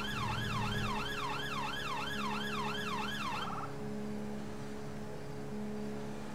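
A fire engine's siren wails in loud, rising and falling sweeps for about three and a half seconds, then cuts out, leaving steady engine and road rumble from the moving vehicle.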